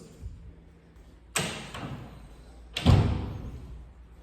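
Heavy doors in a dorm hallway of a gothic revival hall swing and bang shut twice, two loud close slams with echoing decay, the second louder, after a faint knock.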